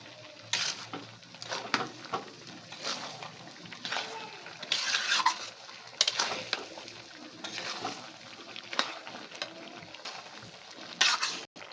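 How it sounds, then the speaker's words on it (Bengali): Sugar stirred into a sour-sweet olive pickle in a pan, with continuous close scraping and wet stirring under a steady background hiss. "চিনি দেওয়ার পরে এভাবে করে নাড়িয়ে নেবেন, যাতে আচারের মধ্যে এই চিনিটা ভালো করে মিক্স হয়ে যায়।"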